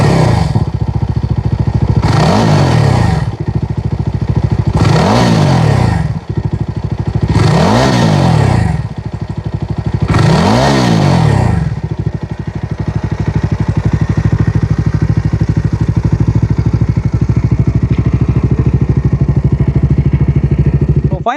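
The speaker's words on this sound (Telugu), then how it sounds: "ఇప్పుడు ఈ బైక్ యొక్క ఎగ్జాస్ట్ సౌండ్ అనేది వినిపిస్తాను" A Jawa 42 Bobber motorcycle in neutral has its throttle blipped five times, each a loud rising-and-falling exhaust roar, before it settles into a steady, thumping idle close by.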